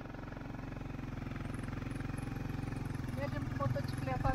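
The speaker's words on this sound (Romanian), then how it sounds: "Mergem cu motocicleta" A motorcycle ride on a rural road near Mangochi in Africa, its engine droning steadily with a fast pulsing throb that grows slightly louder toward the end, with wind noise and some faint voices.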